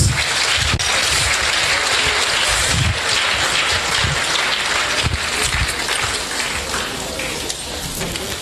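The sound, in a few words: audience applause after inaugural lecture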